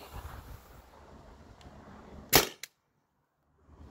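Byrna TCR pistol with a modded HPA tank fires two sharp close pops in quick succession, the first louder, after quiet handling noise, then brief silence.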